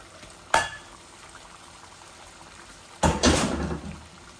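Potatoes drop into browned meat frying in oil in a pan for a potato meat bhuna, giving two loud bursts of sizzling hiss, the second longer, over quiet background between.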